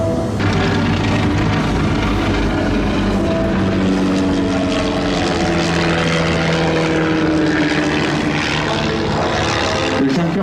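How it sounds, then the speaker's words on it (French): A Junkers Ju 52 trimotor airplane flies at the Biscarrosse air show in 2025, its propeller engines producing a loud, continuous droning hum that holds steady for the whole stretch with no talking. "Le Junker 52, ce modèle que vous voyez évoluer"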